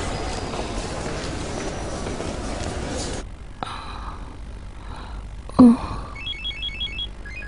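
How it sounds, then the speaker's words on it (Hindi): A phone rings in a dramatic indoor scene, a short burst of repeated electronic ringtone chirps after a noisy stretch, fairly faint and brief, with a sharp gasp-like sound just before it. "इसका फोन है नजीब"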